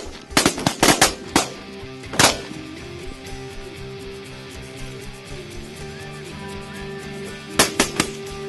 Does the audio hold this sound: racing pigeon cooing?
no